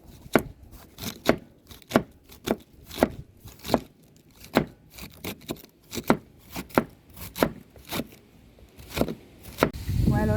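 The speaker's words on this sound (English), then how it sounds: "I continue cutting up the veggie, old school style. Just knife and hands" A kitchen knife chops vegetables by hand on a board, the cook working in an apple and a carrot while chicken fries nearby: a steady run of about fourteen crisp, close, loud chops with short gaps between them.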